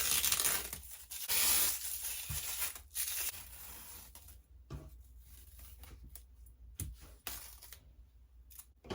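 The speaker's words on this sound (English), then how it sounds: "And now we'll pull off the PressNSeal." Press'n Seal plastic wrap being peeled off sewn sherpa or minky fabric, heard as close, rough tearing and crinkling pulls in several bursts with short pauses between them.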